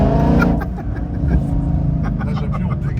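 Porsche 992 GT3 RS accelerating on wet Paris streets in the rain, a loud, close engine roar climbing in revs with a rumbling low end, while someone talks over it.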